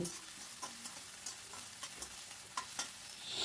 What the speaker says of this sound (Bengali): দিয়ে আবারও সব কিছু ভালো করে মিশিয়ে নিচ্ছি।